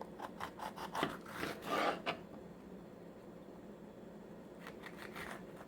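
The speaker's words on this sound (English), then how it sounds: "Here I have 3 peppers, an orange, a yellow, and a red. I'm going to cut those up." A knife cuts through orange, yellow and red bell peppers in a home kitchen, giving a quick series of crisp slicing and rasping strokes, then quieter handling.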